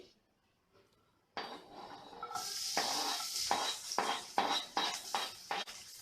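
Chopped onion drops into hot oil in a pan and bursts into a sudden sizzling hiss, then keeps frying as a utensil stirs it with several sharp metallic clinks and scrapes.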